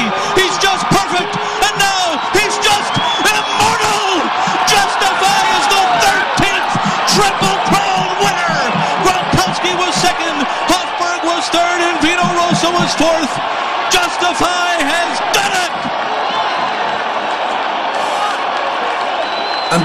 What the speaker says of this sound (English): Folks, you hear that crowd?